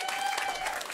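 An audience applauds a panel speaker, the Director General of the International Livestock Institute, at a food and planet forum. The clapping is dense and continuous, with a faint tonal hum underneath.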